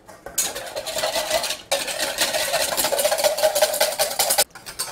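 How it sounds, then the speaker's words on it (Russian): Egg yolk being whisked with a gastrique for hollandaise sauce: a steady, rapid scraping and clicking of a whisk in a bowl, close and continuous for about four seconds with a brief break near the middle. "И сюда же помещаю желток с гастриком. Ну и начинаю взбивать."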